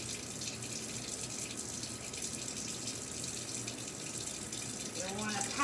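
A tap runs at a sink while hands are rinsed under it, giving a steady, close water hiss that continues throughout and swells slightly toward the end.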